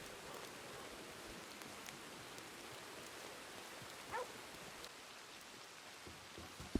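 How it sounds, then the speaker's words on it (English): Rain patters softly and continuously in a Red Dead Redemption roleplay scene, faint and even, with a brief higher call and a small knock near the end. "it is starting to rain"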